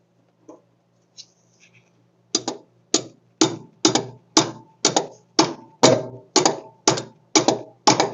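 Small hammer striking metal while working on a Mopar disc brake conversion, a run of about eleven sharp, evenly spaced taps close up after a few lighter knocks, with no talk.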